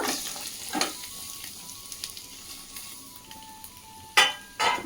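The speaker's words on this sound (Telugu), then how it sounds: "ఇప్పుడు కట్ చేసి పెట్టుకున్న కొబ్బరి ముక్కల్ని కూడా ఇదే ఆయిల్లో వేసి లైట్గా ఫ్రై చేసుకోవాలన్నమాట" Pieces of coconut fry lightly in oil in a pan, giving a soft, steady sizzle with occasional metallic clinks and scrapes from stirring, close and without talk.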